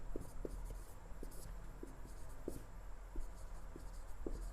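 Chalk or marker scratches out a chemistry definition on a classroom board in short, repeated strokes and taps, faint and close against a low room hum.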